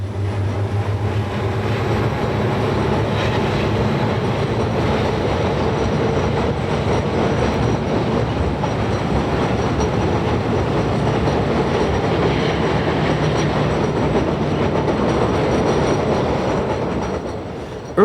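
Alaska Railroad passenger train travelling through wilderness, a loud continuous rumble of wheels on track with rhythmic clatter, steady throughout and heard from close by.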